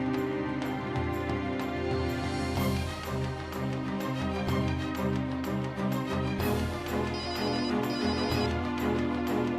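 A melodic phone ringtone plays continuously, full and musical, with chiming notes repeating throughout.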